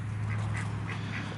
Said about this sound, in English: What are the ducks doing here?